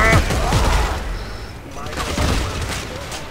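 Gunfire from the video game Dead Space 3, a burst of shots and booming impacts mixed with game noise while someone talks excitedly over it.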